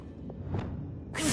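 A Revelio spell cast in Hogwarts Legacy, with soft magical swishes building to a bright, hissing shimmer that bursts in at the end and holds.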